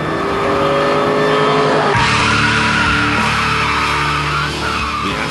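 Aston Martin V8 Vantage driving hard, its loud V8 engine rising and falling through the gears with tire squeal and a harsh, aggressive note close by.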